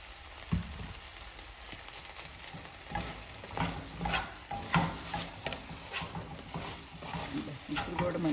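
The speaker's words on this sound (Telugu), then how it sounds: "కొంచెం అల్లం వేస్తున్నానండి." Raw banana fry sizzles steadily in a pan as ginger is added, with repeated soft stirring knocks and scrapes through the sizzle and faint talk in the background.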